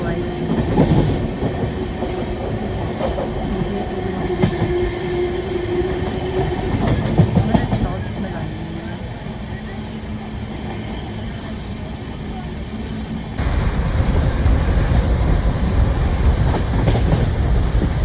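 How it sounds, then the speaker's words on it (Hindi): An express train on the Patna to New Delhi run races along at speed, a steady rumbling roar with rhythmic clickety-clack of wheels over rail joints, heard from inside a carriage, surging louder toward the end. "भाई look at the speed of train."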